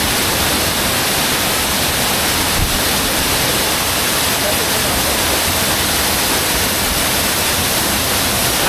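A strong waterfall roars continuously at the base of a hiking trail, a loud, even rush of water close by that fills the whole scene, with no talk.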